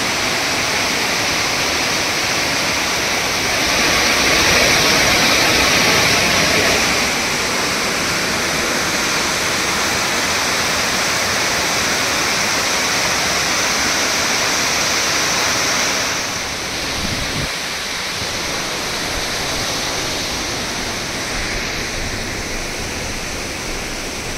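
Waterfall at Banjhakri Falls in Gangtok, Sikkim, a loud continuous roar of falling water that stays dense and steady throughout, swelling slightly early on, with no voices over it.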